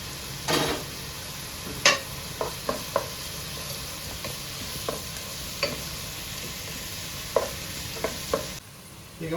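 Chopped garlic and ginger fry in a pan for Patiala chicken masala, giving a steady broadband sizzle with a handful of sharp scrapes and clinks from stirring scattered through it, close and fairly loud, with no voices.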